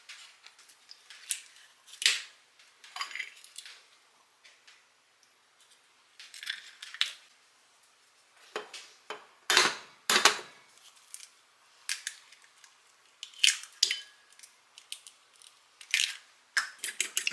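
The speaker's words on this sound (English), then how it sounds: "I'm going to take 2 eggs and I'm going to crack them in this bowl." Two eggs cracked into a bowl in a home kitchen while making breakfast, heard as quiet sharp taps and clicks scattered with pauses, close and faint, with no voices.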